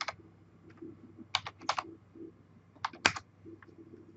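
Keys click on a computer keyboard in short, irregular bursts with pauses between them, close by and fairly quiet, during a network configuration lab.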